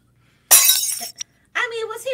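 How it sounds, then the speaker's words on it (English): Glass shatters loudly as a figure crashes through a window, a sudden burst with a short trailing tinkle. A voice speaks right after the crash. "Jerry just comes crashing through the window."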